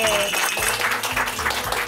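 An audience claps for Indonesian heroes in a steady, dense patter that runs the whole time beneath a speaking voice.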